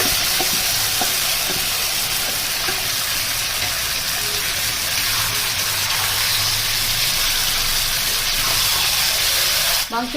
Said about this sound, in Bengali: মাংসগুলোকে আমি ভালো মতো কষিয়ে দেবো